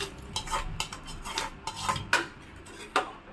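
A spoon stirs fried tempering of dried red chillies into drumstick dal in a pot, with a few sharp metallic clinks and scrapes against the rim spaced irregularly, close and fairly quiet.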